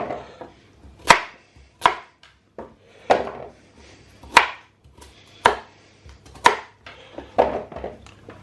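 A knife roughly slices peeled carrots and parsnips on the bias against a cutting board, about nine sharp, close chops at an uneven pace with quiet gaps between them.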